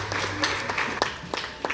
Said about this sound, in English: Let's clap her.